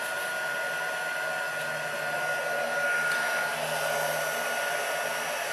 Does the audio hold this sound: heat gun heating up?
yes